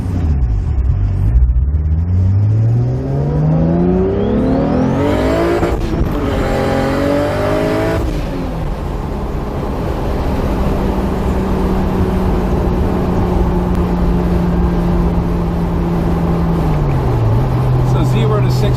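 A Toyota MKIV Supra with a six-speed gearbox accelerates hard, its engine note climbing loudly through the gears and then settling into a steady drone. People talk inside the car over the engine.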